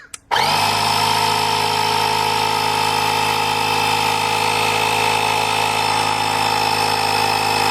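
A portable car tire inflator starts with a short click, then runs as a loud, steady mechanical drone with a constant pitched whine, held unbroken to the end.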